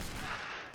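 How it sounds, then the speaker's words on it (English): Cannon fire in the Age of Empires 3 video game comes as a loud, dense burst of noisy, boomy blast that fills the whole moment, with no talking. "Actually dodging a cannon shot, looks like."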